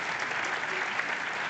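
An audience at a live science talk applauds, a steady wash of many hands clapping that holds at an even level throughout.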